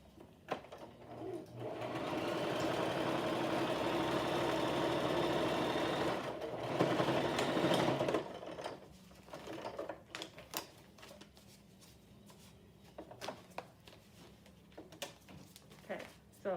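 A sewing machine stitches a fabric face mask with antimicrobial interfacing, running in a close steady whir for several seconds in two bursts, followed by scattered clicks and handling noises with quiet talk around them.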